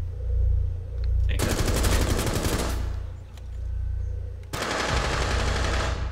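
Heavy gunfire in Rainbow Six Siege's Tower map during a team deathmatch, with a shotgun among the weapons: two dense loud bursts of rapid shots, the first running about a second and a half, the second starting near the end, with quieter background between them.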